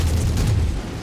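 Mech weapons firing and exploding in the Mechwarrior 5 video game: a dense, rumbling barrage of booms that is loud for most of the moment, then eases off into a lower roar.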